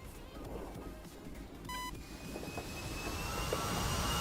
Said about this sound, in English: I'm just going to taxi onto the runway here, if the plane will let me, so that we can go ahead and repair.